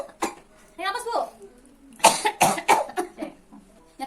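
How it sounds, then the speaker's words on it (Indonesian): A woman being treated for choking coughs forcefully several times in quick clusters, close and loud, with a coaching voice speaking between the coughs. "tarik nafas dan batuk yang kuat ya Bu ya, sekuat mungkin ya Bu ya"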